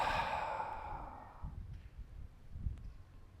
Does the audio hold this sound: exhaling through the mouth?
yes